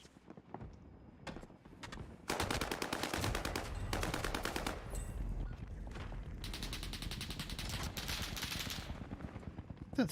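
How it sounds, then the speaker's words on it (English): A laser gun fires in a video game in long, rapid automatic streams of crackling pulses, loud and dense, with a short pause between bursts and a few scattered single shots before the firing begins. "That stupid laser gun."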